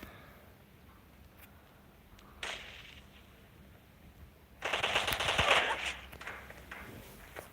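Automatic gunfire in the battle royale game PUBG rattles out in quick bursts, one short volley, then a louder sustained spray of shots that fades into quieter background.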